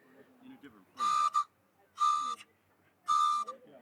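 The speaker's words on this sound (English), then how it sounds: "We got these ones that are called train whistles." Three loud, shrill blasts on a Me-Wok train whistle, each about a third to half a second long and evenly spaced. Between the blasts, quieter voices talk in the background.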